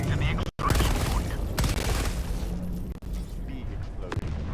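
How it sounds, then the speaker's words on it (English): Dense battlefield roar in the video game Helldivers, a big explosion rumbling under sustained rapid gunfire and booms, loud and continuous with a few sharp cracks cutting through. "Big explosion."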